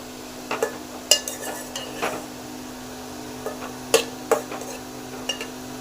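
Fried okra being stirred into a pan of tamarind curry, giving sporadic scraping and clinking of a utensil against the pan with irregular spacing, close and moderately loud, with no talking.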